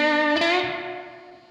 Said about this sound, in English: made a setting here on the Mustang amp where I added like a room reverb.